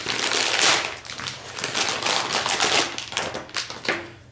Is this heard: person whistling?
no